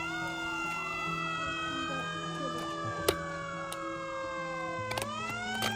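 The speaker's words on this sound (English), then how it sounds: "Call the fire engine!" A Hot Wheels toy fire engine siren wails with steady and sweeping electronic tones, loud and continuous, with a few sharp clicks partway through.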